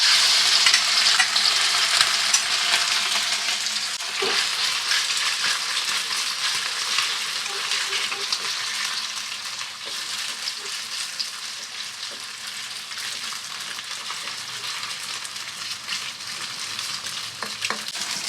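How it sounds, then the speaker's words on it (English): Loud, steady sizzling of chicken frying in a hot oiled wok for moo goo gai pan, with stirring scrapes and clatters of a spatula throughout, no voices. "I'm gonna quickly stir fry our chicken first."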